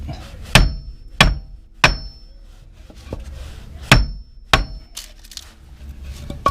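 A hammer strikes a metal boat trailer part, giving six sharp, ringing blows at irregular intervals, loud and close, with quiet gaps between them.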